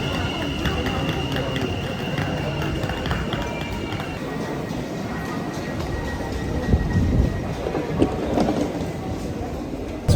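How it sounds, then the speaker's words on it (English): A Sprinter train rolls toward Amsterdam, its steady low rumble and rattling heard from inside the carriage, with a faint whine early on and heavier thumps near the end, under some quiet talk. "We're going to take the Sprinter train"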